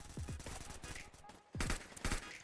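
A shotgun fires in the mobile FPS war game Phantom Blaze Mobile, a handful of sharp, booming blasts in quick succession with other battle noise, close and loud.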